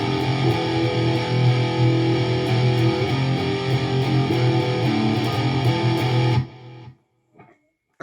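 An electric guitar with distortion plays the simple chorus progression of a song, loud and sustained, then cuts off abruptly, leaving near silence with a faint tap.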